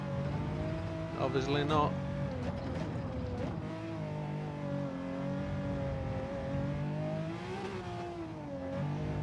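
Race car engine in Gran Turismo 7 holding a steady tone that rises and dips as it shifts into third gear, with a person talking over it.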